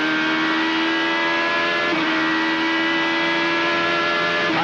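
Onboard IndyCar race car at the 2010 Honda Indy 200 with Elio running third, engine screaming steadily at high revs near the microphone, a brief pitch dip around a gear change, no voices.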